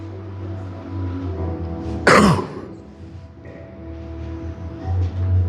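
A single sharp cough and throat clear from a preacher near a microphone, one loud harsh burst standing out over a low hum, followed by quieter room sound.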